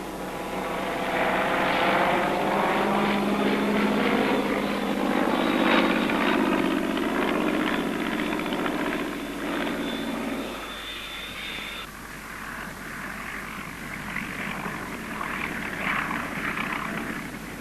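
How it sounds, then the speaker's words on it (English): A vintage SE-5A biplane coming in to land at a flying display, a steady propeller engine drone that holds loud for about ten seconds and then drops to a softer, rougher rumble as it touches down and slows. "The landing of the SE-5A brings us to the last item in the flying display"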